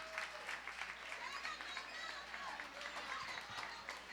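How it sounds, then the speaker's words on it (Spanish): A church congregation applauds in a sanctuary, a steady wash of many hands clapping at low volume throughout, with faint voices mixed in. "vamos a darle un aplauso a todos"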